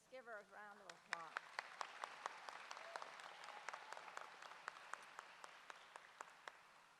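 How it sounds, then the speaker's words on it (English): Audience applause at a nurses pinning ceremony, steady scattered clapping from a crowd lasting several seconds, preceded by a brief voice at the start. "Let's give her a round of applause"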